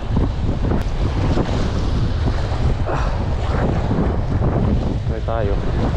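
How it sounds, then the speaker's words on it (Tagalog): Strong wind at sea buffets the microphone from a small fishing boat, a loud continuous roar with rushing water and surf underneath. "Napaka-ingay po ng hangin."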